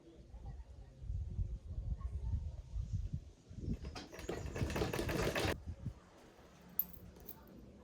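A sewing machine stitches a sleeve round a basic bodice, with a stretch of quick even whirring in the middle, set between quieter handling sounds and a soft voice.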